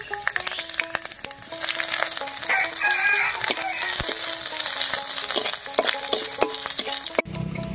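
Chopped ginger hits hot mustard oil already spiced with panch phoron, dried red chillies and bay leaves, giving a loud, close, crackling sizzle with clinks and scrapes of stirring throughout.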